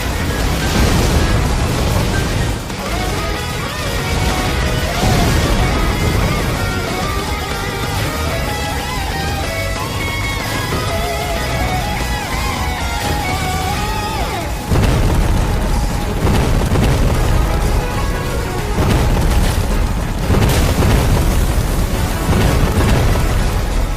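Enemy weapons blow up in the vertical shooter video game Raiden V, with dense, loud, continuous explosions and booming blasts layered over game music, surging again near the middle and end.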